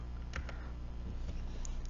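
A few scattered computer keyboard keystrokes, light clicks spaced irregularly over a steady low hum, close and fairly quiet.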